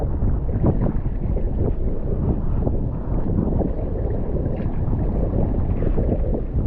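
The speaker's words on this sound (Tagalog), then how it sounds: "lakas ng hangin" Strong wind roars steadily across an open boat at sea during fishing, a dense continuous rush with gusty buffeting against the microphone and splashing water, no voices heard.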